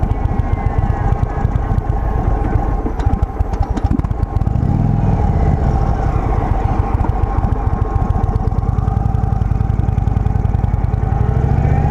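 A 2023 Indian Sport Chief motorcycle engine running loud and close, with a steady throbbing rumble throughout and a rough, uneven patch suggesting it is close to stalling. No voices.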